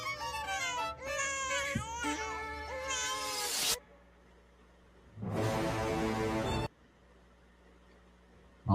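Children crying in a horror-style trailer: wailing, high-pitched sobs in a loud burst of about four seconds, then near silence, then a second loud tonal burst of crying before it cuts off again.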